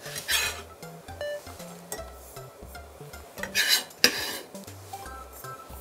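Minced shiitake mushrooms are scraped and tipped into a bowl while making chicken meatball soup, giving several close bursts of utensil scraping against dishware with light clinks and soft rustling, no talking.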